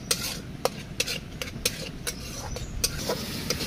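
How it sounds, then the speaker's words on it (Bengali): Ginger-garlic paste frying with browned onions in a pan at an outdoor forest cooking spot beside a canal: a steady close sizzle broken by regular sharp scrapes and clinks of a spatula stirring against the metal. "আদা রসুনের এই মিশ্রণটা ভালো করে আমরা ভেজে নিয়েছি"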